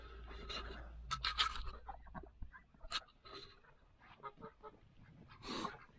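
Domestic geese and ducks, kept in trios for eggs and tagged with large number 4 tags, give several loud honking and quacking bursts at moderate distance, scattered irregularly across the stretch with quieter gaps between.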